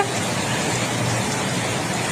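Heavy rain pours steadily onto a flooding street, a dense, even hiss of water that fills the whole short stretch with no voices over it.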